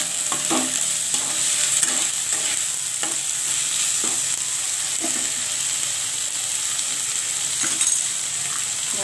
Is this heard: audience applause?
no